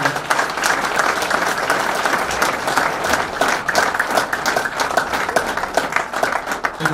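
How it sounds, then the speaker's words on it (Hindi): Loud, continuous applause from a large audience at an organic agriculture event in Delhi, as a speaker is honored; dense clapping holds steady for the whole seven seconds with no talk over it. "एक बार सागर जोशी सर के लिए बहुत बहुत जोरदार तालियां।"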